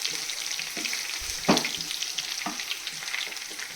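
Curry leaves and garlic crackle and sizzle steadily in hot oil for a tempering, a close continuous frying hiss with a few sharper pops and stirring scrapes.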